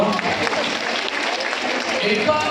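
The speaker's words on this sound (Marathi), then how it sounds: "चांगलं जर जोरदार टाळ्या त्याच्यावर" A studio audience gives a burst of loud, continuous clapping throughout, with voices mixed in over the applause.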